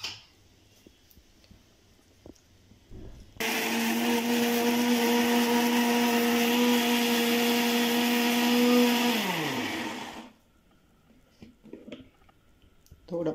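A mixer grinder whirs loudly through roasted masala with a little coriander and water, a steady high motor whine for about seven seconds that winds down as it stops, with quiet kitchen handling before and after.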